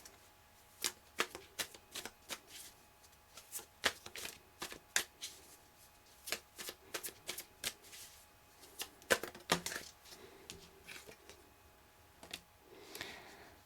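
Tarot cards being shuffled by hand, with crisp riffling and flicking bursts repeating in an irregular rhythm, close and fairly quiet with no talking.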